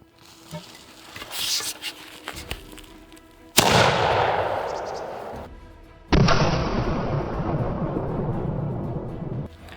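A gun loaded with 60 grains of powder is fired at armour, giving two loud booming blasts a few seconds apart. Each blast trails off in a long rolling echo, and soft handling rustle comes before the first.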